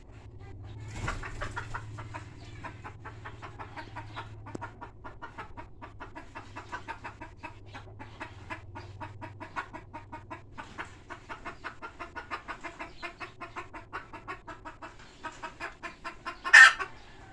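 A fighting rooster of jungle-fowl type clucks in a long, steady run of soft, evenly spaced clucks over a low background hum, ending with one sudden, louder sharp call near the close.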